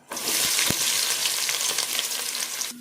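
Steady crackling sizzle of sliced large onions frying golden in hot oil with cloves and bay leaf for mutton biryani, loud and close, with a few sharp pops and stirring clatter, no voices.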